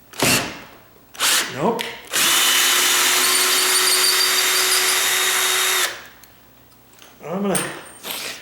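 A power drill whines in short bursts, then holds one long steady run as it drives a screw into a tall sagging door. Someone speaks briefly between the drilling.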